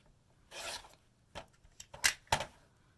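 A rotary cutter slices quilting fabric along a ruler, trimming squares corner to corner into half square triangles. A longer rasping pass is followed by a few short, crisp cuts and scrapes, heard close with no talk.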